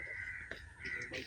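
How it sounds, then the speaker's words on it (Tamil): Birds calling in a wetland park, a short harsh crow-like caw repeated a couple of times at moderate distance over a low outdoor background. "இங்கே நிறைய பேர்ட்ஸ் இருக்கு."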